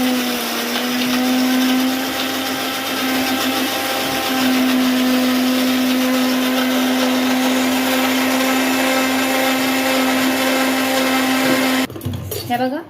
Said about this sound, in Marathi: आता ह्याच्यामध्ये मिक्सर आपल्याला बारीक करून घ्यायचं आणि एक ग्लास ह्याच्यामध्ये पाणी टाकून घ्यायचं आहे